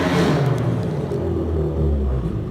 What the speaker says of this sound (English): And they drag race up and down the street.